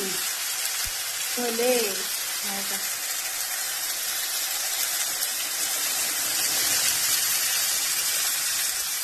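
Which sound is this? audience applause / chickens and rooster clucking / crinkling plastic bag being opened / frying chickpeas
frying chickpeas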